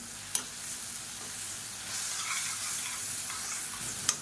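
Tomato masala with chili powder and spices sautés in a pan with a continuous sizzle, while a spoon stirs and scrapes, giving a couple of sharp clicks against the pan.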